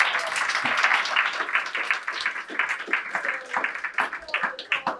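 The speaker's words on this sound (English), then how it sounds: "let's give all of our pictures a round of applause" An audience claps for pitch competitors at a 2022 pitch competition, dense sustained applause close by, steady through the stretch with a few voices mixed in, thinning slightly toward the end.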